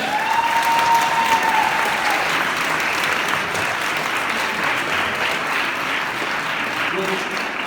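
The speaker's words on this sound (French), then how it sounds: "je demanderai un tonnerre d'applaudissements au jury, s'il vous plaît." Sustained, full audience applause for the jury at a pageant on stage at a Japan-themed convention, a dense, even roar of clapping with a brief whistle near the start.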